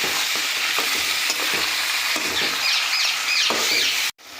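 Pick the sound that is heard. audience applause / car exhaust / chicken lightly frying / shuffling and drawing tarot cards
chicken lightly frying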